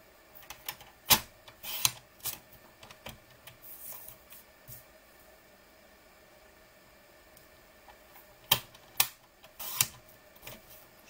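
Cardstock sliced on a paper trimmer for a double-fold card, heard as two clusters of sharp, crisp cutting clicks and rasps, one early and one near the end, separated by a quiet stretch.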